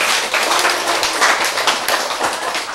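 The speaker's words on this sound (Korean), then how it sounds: "박수!" A dense, steady burst of many hands clapping from an audience at a lecture, loud and close, continuing for a few seconds without any voices over it.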